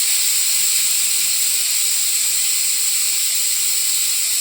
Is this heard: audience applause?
no